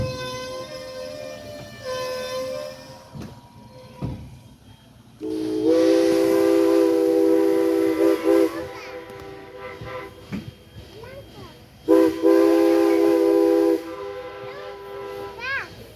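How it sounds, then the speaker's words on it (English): A steam locomotive whistle on engine 89 of the Strasburg Rail Road blows two long, loud blasts, the second starting after a pause, over a rumbling background with faint hiss. "sometimes when we blow our whistle for Carpenter's Crossing, the ghost of the old M1S train answers us back"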